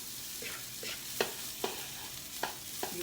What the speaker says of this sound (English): I'm going to add my rice to the hot pan